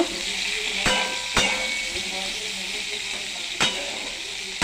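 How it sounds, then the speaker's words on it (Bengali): Cauliflower florets frying in oil in a pan, a steady close sizzle with a few sharp clacks of a utensil against the pan, no talk. "দেখো ফুলকপিটাও ভাজা ভাজা করে নিয়েছি তো আর একটু ভেজে নিব"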